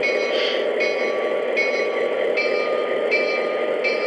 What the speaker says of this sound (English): High-pitched bell.